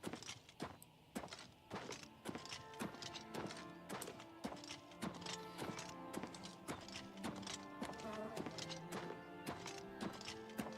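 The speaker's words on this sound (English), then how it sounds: "I heard a horse." Hooves of a horse in Oblivion Remastered clip-clop in a steady walking rhythm throughout, moderately close, with hollow thunks mixed in and a brief whinny.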